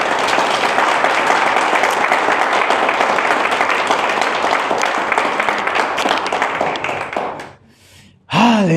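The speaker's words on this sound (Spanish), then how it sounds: "Dale fuerte el aplauso al Señor." A church congregation applauds the Lord, dense sustained clapping from many hands filling the room for several seconds before thinning out and stopping.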